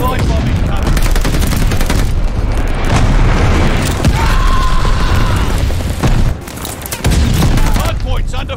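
Dense, loud battle din from Call of Duty Vanguard multiplayer: continuous booming explosions and rattling gunfire blended into a constant roar, with a brief dip near the end before resuming, voices mixed in.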